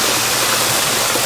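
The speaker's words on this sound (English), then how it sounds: "So you can see all the water is coming over here" Water pours over a water feature panel system in a constant, dense rushing wash, loud and close like a small waterfall, with no voices.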